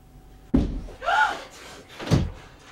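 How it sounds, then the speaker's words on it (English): An office door is shut with a single sharp, fairly loud thud, followed by a brief sweeping scrape and then a second, softer knock or thump close by. "I'll shut the door."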